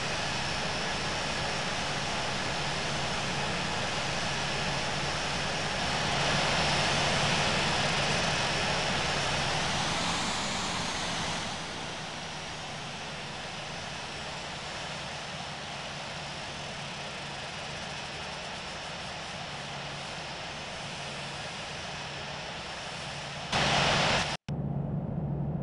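A Korean Air Boeing 737-900 in the Infinite Flight simulator game roars through a takeoff run, a steady, loud, broadband jet engine drone that swells briefly midway, then settles before a short burst near the end.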